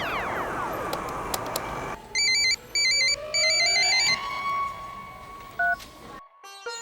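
A telephone is dialed: a run of electronic keypad tones beeps in short bursts after a fading ringing tone, followed by a brief ring signal, fairly quiet and with no talk.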